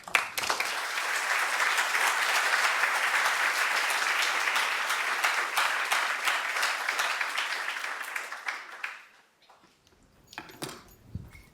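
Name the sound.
audience applause welcoming a lecture speaker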